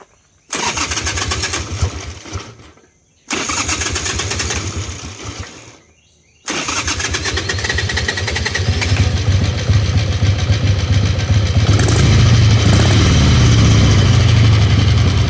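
An Ironhead Sportster motorcycle engine cranks and sputters in two short bursts that cut out. On the third try it catches and settles into a loud, steady, lumpy idle close by.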